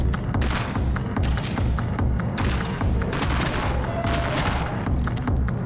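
Rapid, dense gunfire, including shotgun blasts, keeps booming nonstop during a video game boss fight deep underground, loud and close with no talk over it.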